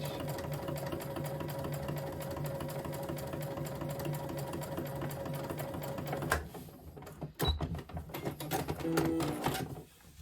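A sewing machine stitches fabric in a steady, rhythmic whir for about six seconds, then stops, followed by clicks and handling noises.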